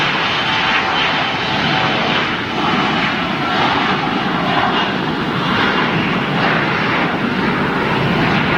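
Jet aircraft take off on parallel runways at Munich Airport, a steady, loud, broad engine roar held throughout with wind buffeting the microphone.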